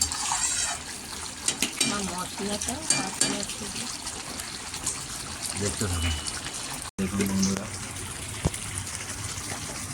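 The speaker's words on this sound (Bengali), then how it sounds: "চিকেনটা ফুটছে" Chicken simmers in its own released juices in a pan, a busy bubbling and stirring texture running throughout, with a voice talking over it and a brief dropout near the end.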